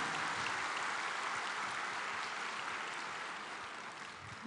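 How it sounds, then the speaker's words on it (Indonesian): Audience applause filling an Indonesian coordination-meeting hall, a dense steady wash of clapping from a large crowd that holds for several seconds and fades slightly toward the end. "Tepuk tangan Ibu Wawali"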